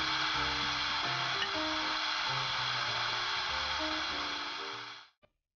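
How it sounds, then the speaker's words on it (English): Record cutting lathe cutting a continuous narrow groove into a master disc, a steady bright whirring hiss with shifting low tones that fades out near the end, followed by one short click. "The machine cuts a continuous narrow groove."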